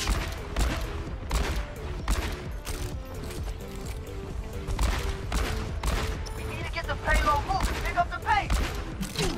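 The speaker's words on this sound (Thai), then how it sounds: "ยิงไปก่อนแล้วฮะสองดอก" McCree's revolver in the shooter Overwatch fires sharp repeated shots amid ongoing match action and mechanical clatter, a voice speaking over the steady, dense gunfire.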